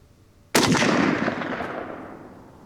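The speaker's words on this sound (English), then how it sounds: "Nice trigger pull on this gun." One loud shot from a Zastava ZPAP M70 AK-47 rifle with walnut stock at an outdoor range, a sudden sharp report trailing into a broad reverberant tail.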